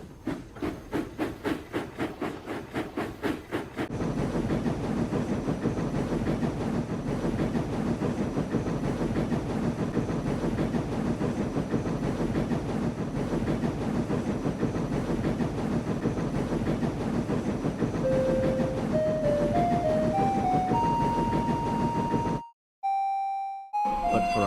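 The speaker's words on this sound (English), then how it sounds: "So they coupled him to the train, and this time he really pulled it." A tank engine pulling a train of coaches chuffs in a rapid steady rhythm with hissing steam, running continuously and loud, joined near the end by a rising series of whistle-like tones before a brief pause.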